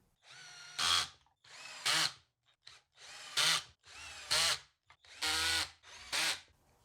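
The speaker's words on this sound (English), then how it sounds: "now let's try out the clutch system here and put in these pocket hole screws" A 12-volt Raitool cordless drill whirs in repeated bursts, about six runs each ending in a louder, higher grinding spike as a pocket hole screw drives home, with short pauses between.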